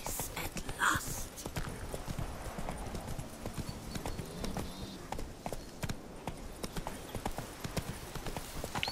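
Horse hooves clop in a steady trotting rhythm on hard ground in the video game Witcher 3: Blood and Wine, close and continuous, with a brief whinny near the start.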